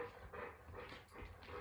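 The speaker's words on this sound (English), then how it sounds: "this is my dog you're hearing. She does this 24/7, my Ruthie." A female dog whimpers and whines softly indoors in short, uneven bursts, faint and close by with no one talking.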